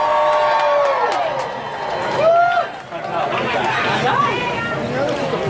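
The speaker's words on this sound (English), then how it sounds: "The crowd just keeps growing and growing." A large crowd at a rally chatters and murmurs steadily, with scattered whoops and a louder cheer rising midway, while a nearby voice speaks over the babble.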